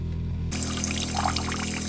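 Water running from a sailboat galley faucet with weak pressure starts abruptly and keeps flowing as a steady, close splashing stream into the sink.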